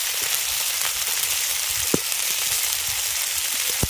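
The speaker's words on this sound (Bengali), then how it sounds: "আদা আর জিরেটাকে কিছুক্ষণ ভেজে নেওয়ার পর দিয়ে দিচ্ছি টমেটো কুচি লঙ্কার গুঁড়ো" Chopped tomato and chili powder sizzle in a pan with ginger and cumin, a dense, even frying hiss with a few sharp spits and utensil taps near the end, close and unbroken by talk.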